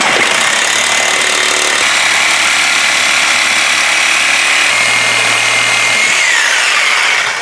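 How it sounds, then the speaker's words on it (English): A loud power tool cuts off a pipe underneath a third-generation car while subframe connectors are being installed. It makes a continuous harsh grinding whine for about seven seconds, and its pitch drops as it winds down at the end. "Alright, now we're just going to cut that off right there"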